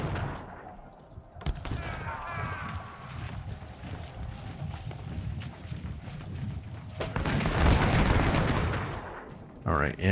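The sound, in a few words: artillery fire in Ultimate General video game battle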